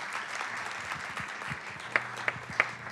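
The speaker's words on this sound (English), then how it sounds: "Can we have a round of applause for our Scouts here?" A room at a town council meeting gives a round of applause for visiting Scouts, steady moderate clapping that carries through with a few sharper claps near the end and no talking.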